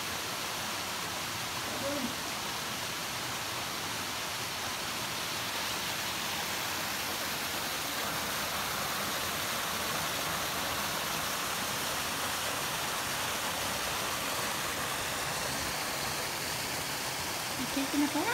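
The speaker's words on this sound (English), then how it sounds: "Waterfall, very cool." A waterfall roars as a steady, broadband rush of falling water, continuous and even throughout, with no voices over it.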